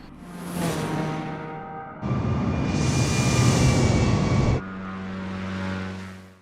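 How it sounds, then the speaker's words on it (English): Simulated aircraft engines in Microsoft Flight Simulator 2020 passing by: a droning propeller hum, then a louder throttled-up roar for a couple of seconds, easing back to a steady drone that fades away at the end. "They have also been working on other effects, such as the Throttle effect, aka as the flyby."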